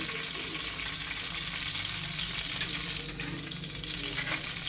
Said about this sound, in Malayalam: അപ്പോൾ കരിയേപ്പില ഞാൻ വറുത്ത് കോരി